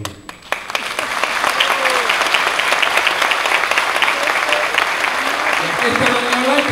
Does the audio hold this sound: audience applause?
yes